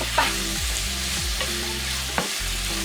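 Chicken being stir-fried in a pan while preparing Ghanaian cassava akyeke, a close steady sizzle with a couple of sharp utensil scrapes, as a voice speaks briefly over it.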